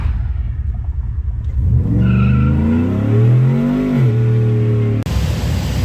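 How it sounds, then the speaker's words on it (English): A stock 5.3-liter V8 pickup with a BTR cam revs hard on a dyno, its engine note climbing steadily in pitch through a full pull before dropping off abruptly, loud and close. "so here's the dyno pull."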